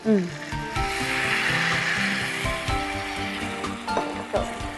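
Milk poured into a pan of coconut-paste masala gravy with turmeric and salt for eggplant soya curry, giving steady sizzling and bubbling with stirring scrapes, close and moderately loud, with some background voice.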